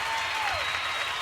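An audience claps together in a continuous, even round of applause, close and full, with a faint whistle-like tone gliding across it.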